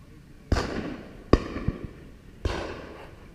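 Three sharp 28 bore shotgun shots with 18 gram loads, fired outdoors in the UK, come at roughly one-second intervals, each a crisp report trailing into a short echo, moderately distant.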